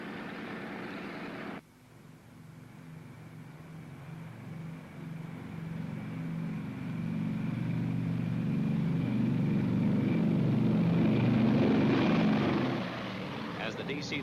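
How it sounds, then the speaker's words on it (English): A DC-3 propeller airliner takes off from a runway, its engine drone swelling from a low hum to a loud roar that peaks and then eases, while a narrator talks over it. "The tower then gave the DC-3 pilot permission to take off."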